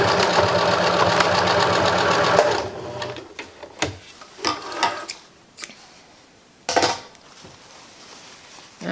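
A sewing machine runs steadily, stitching a seam on a reversible shoulder bag with a fast mechanical whir, then stops, leaving a few short clunks and brief bursts of handling.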